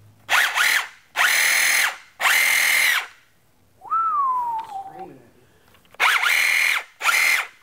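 A DeWALT XR compact cordless reciprocating saw runs in loud, close bursts of high-pitched motor whine, five revs in total, with a brief pause mid-way filled by a rising-then-falling whistle-like sound.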